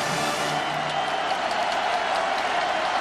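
Stadium crowd at Memorial Stadium cheering for the Clemson Tigers during a 2005 college football game against Miami, a steady dense roar of cheers and applause that holds at an even level for the whole stretch.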